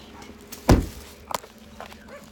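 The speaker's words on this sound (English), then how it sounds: "Dogs barking all over the place." A dog barks outdoors on a neighborhood street on Christmas Eve: one sharp, close bark followed by a fainter second one, with light rustling and footsteps around it and no talking.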